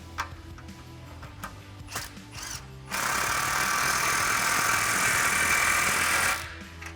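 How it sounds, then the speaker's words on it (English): Socket tool tightening a 15mm exhaust clamp on a 2016-2023 Camaro SS cat-back exhaust: a few light clicks, then a loud, continuous buzzing whir that runs for several seconds and stops abruptly. "And then we can get a 15mm socket on our clamp to tighten that down."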